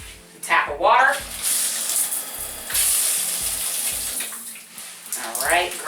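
Water runs from a tap in a steady hiss and splash, with a person speaking over it in places.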